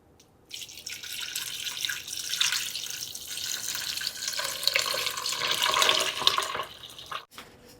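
Chicken broth pouring into a pot of chicken and dumplings, a steady splashing liquid stream lasting several seconds before stopping, close and alone.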